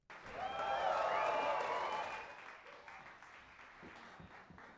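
A crowd applause sound effect swells quickly into dense clapping, holds for about two seconds, then tapers away into a quiet tail while being mixed in Pro Tools.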